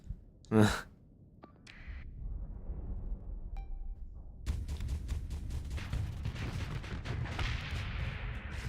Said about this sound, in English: These stupid carriers are trying to bomb our monitor. We're just dodging all the bombs.